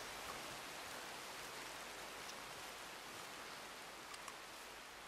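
Rain falls in Red Dead Redemption 2 as a steady, even hiss with faint scattered drop ticks and no voices.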